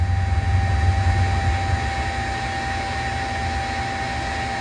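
Boeing 737 engine slowly spinning up toward 20% RPM during start in a flight simulator, heard as a steady whining turbine roar with a constant high tone over a broad rushing hiss, with a low rumble fading after the first two seconds.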